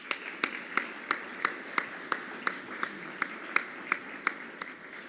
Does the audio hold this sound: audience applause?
yes